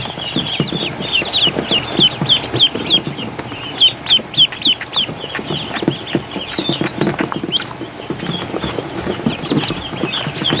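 A dense flock of ducklings cheeping and peeping constantly, with soft scurrying and shuffling underneath as they run back and forth, busy and close.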